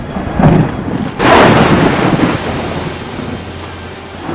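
Thunder rumbles in a cartoon stormy scene at a railway yard: a sharp crack followed by a rolling boom, then a lingering low rumble over steady rain-like noise.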